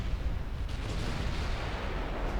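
A naval artillery barrage from the battleship Koenig in Ultimate Admiral Dreadnoughts, a continuous low rumbling roar of distant heavy gunfire with no distinct gaps.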